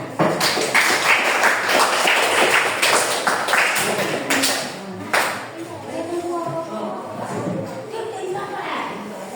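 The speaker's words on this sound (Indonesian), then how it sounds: "Ya, tepuk tangannya." A crowd claps continuously, dense and fairly loud, with voices chattering underneath as the applause gradually thins out.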